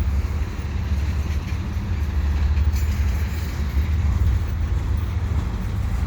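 A train rumbles steadily across the Butler Street bridge in Pointe St Charles, a constant low-frequency roll with faint metallic rattle, moderately loud and continuous with no voices.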